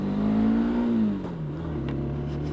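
A motorbike engine idles and revs steadily before a ride to a fuel stop, a continuous close mid-pitched drone that sags slightly in pitch partway through, with no talk.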